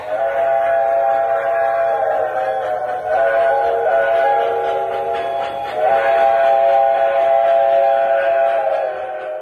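An MTH M1B model locomotive pulling a 27-car military train rumbles steadily while a whistle sounds in long sustained blasts, three of them in a row, loud and close.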